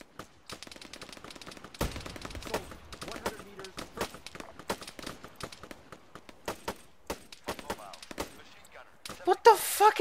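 Machine gun fire in the military shooter game Arma 3, rapid sharp bursts of shots repeating through the whole stretch, with occasional heavier cracks and voices talking over the gunfire.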